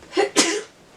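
A single short sneeze, fairly close, with a quick intake of breath just before it.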